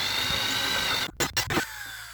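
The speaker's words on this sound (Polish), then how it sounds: "drapnę, żeby zaznaczyć ślady wiercenia" A drill bit lightly scratching a surface to mark drilling spots while working on a beehive-transport crane base, with a brief broadband burst of short scraping strokes after a steady tonal background hum.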